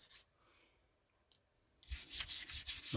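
Rubbing and wiping on metal parts of a Mossberg 500 12-gauge pump-action shotgun during cleaning and oiling: a brief scrape, then a quiet gap, followed by a run of close, rhythmic cloth-rubbing strokes.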